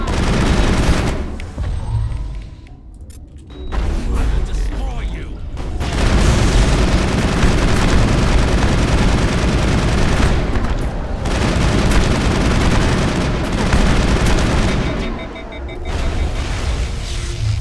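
Sustained gunfire in the Mass Effect game on Noveria: dense bursts of automatic weapon fire and booming shots, loud and continuous with brief lulls, with voices shouting over the shooting.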